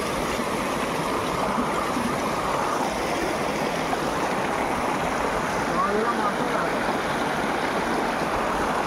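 Creek water rushing steadily during heavy monsoon rain while catching crabs, a continuous broadband wash that stays fairly loud and even throughout, with no clear voices over it.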